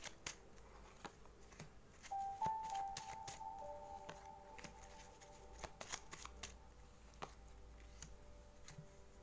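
Tarot cards are shuffled by hand in quick, crisp riffles and taps, close and fairly quiet, with a faint steady tone ringing in the background.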